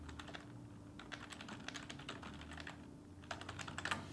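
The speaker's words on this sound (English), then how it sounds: "we're going to type in Microsoft Office trial." A computer keyboard being typed on in short clattering bursts with a pause in the middle, close and fairly quiet over a low steady hum, no one speaking.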